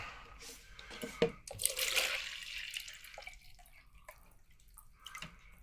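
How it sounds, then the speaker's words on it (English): Water poured from a container into a second cup, splashing and trickling in a short burst with drips trailing off, near and fairly quiet. "There's my second cup of water for the double dip."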